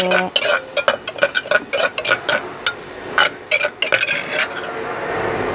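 Cucumber and pork belly stir-fried in a pan, with a run of sharp, rhythmic scraping and clattering strokes of a utensil against the pan over a soft sizzle, close and fairly loud, no talking.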